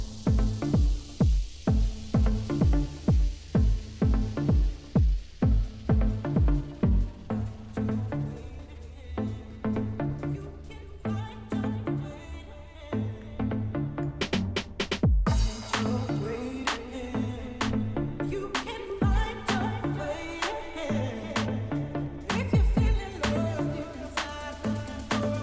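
Tech house intro building from a steady, punchy four-on-the-floor kick with layered synths, then thickening into a fuller groove with short vocal snippets and percussive hits, playing alone at moderate level.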